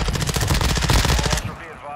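Rapid, loud shotgun and gunfire blasts in a first-person shooter game, a dense burst of shots lasting over a second, then cutting off to a quieter ringing tail.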